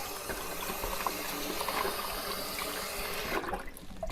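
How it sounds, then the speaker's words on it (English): Water running from a kitchen tap during hand washing, a steady moderate rush and splash that cuts off near the end, with no talk over it. "You gonna wash your hands? You want to wash your hands?"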